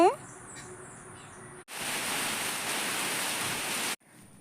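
Heavy rain pours down as a dense, loud wash that starts suddenly after a quieter stretch with faint bird chirps and insects, then cuts off abruptly near the end.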